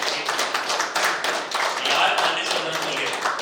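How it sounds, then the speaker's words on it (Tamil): Audience at a kabaddi umpire clinic motivation class clapping in thanks, a steady dense patter of many hands filling the room for a few seconds with no pause. "என்னோட ஸ்டைல் என்னன்னா முன்னாடி நன அந்த நன்றியை உங்க கைத்தட்டல் மூலியமா கொடுக்கணும்னு சொல்லி நான் வேண்டிக்கிறேன்"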